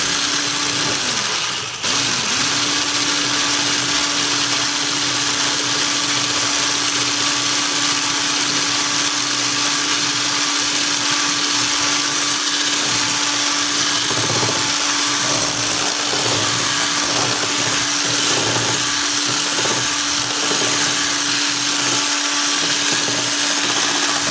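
An electric mixer beats flour into wet cake batter for a crying cake, whirring loud and steady at a constant pitch throughout after a brief hitch at the start, close and uninterrupted.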